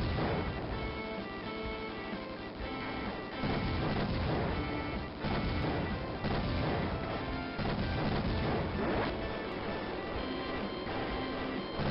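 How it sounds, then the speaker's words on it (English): Machine gun fire from the 1994 shooter Raptor: Call of the Shadows, a steady, dense stream of rapid crackling shots over continuous game music, lo-fi and muffled, with no talk. "I really like the sound of the machine gun."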